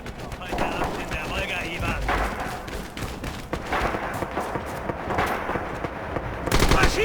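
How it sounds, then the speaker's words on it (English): Machine gun bursts and artillery fire in the Red Orchestra 2 battlefield game, dense rattling volleys and heavy thuds layered over one another in a continuous chaotic barrage, with talk running underneath. "The drumbeat of gunfire"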